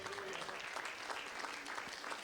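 A church congregation applauds in praise of God, a dense, steady wash of clapping from many hands that fills the short moment without a break.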